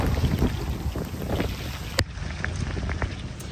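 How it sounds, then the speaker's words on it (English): Strong wind buffets a motor boat out on the water, a steady roaring rush with gusty microphone rumble throughout and one sharp knock partway through. "wind is really picking up here."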